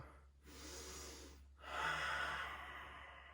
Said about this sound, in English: Strong, deep exhales for 2.